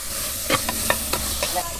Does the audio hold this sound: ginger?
yes